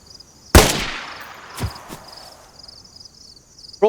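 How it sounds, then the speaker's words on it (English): In the video game DayZ, a thrown flashbang goes off as a noise diversion: one sudden loud bang, then a couple of fainter thuds over a thin, steady high ringing background. "Brought a couple of these flashbang things again."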